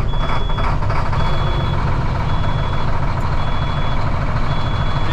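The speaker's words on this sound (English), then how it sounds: "It's a pretty good truck that can start without being plugged in." A loud diesel engine on a Kenworth K100E truck rumbles steadily up close while a high reversing beeper sounds in regular, repeating pulses.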